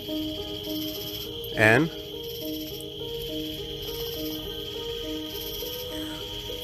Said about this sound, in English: there's a lot of cicadas up in the tree